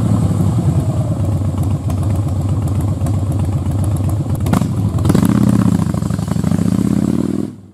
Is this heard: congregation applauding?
no